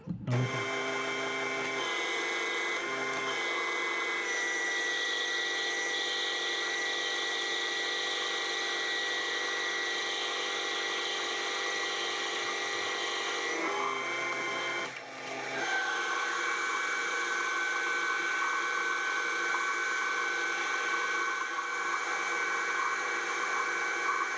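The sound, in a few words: lathe turning down metal workpiece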